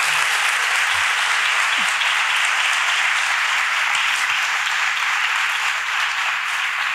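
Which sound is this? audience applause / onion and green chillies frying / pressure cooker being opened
audience applause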